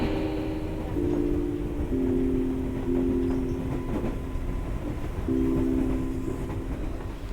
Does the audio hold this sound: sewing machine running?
no